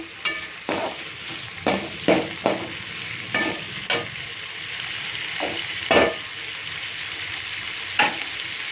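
Tomatoes sauté in a pan over a medium flame while mint chutney is being made. A continuous sizzle runs throughout, punctuated by sharp, irregular clinks and scrapes of a spatula against the pan.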